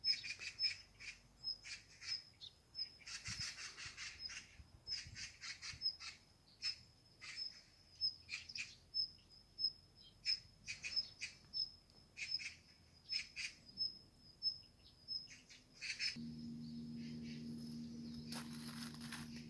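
Birds sing and chirp repeatedly around a country house in the mountains, bursts of calls in an irregular rhythm, with a steady insect-like trill running beneath; a low hum joins near the end.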